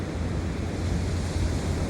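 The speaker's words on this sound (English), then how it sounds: "it's getting a little windy out here" Steady wind buffeting a microphone outdoors beside a car, a continuous broadband rush with low rumbling gusts throughout and no speech.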